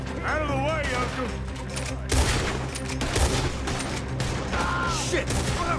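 A Red Dead Redemption 2 firefight rattles on steadily, with repeated shots and booms layered under shouting voices and a constant loud background of combat.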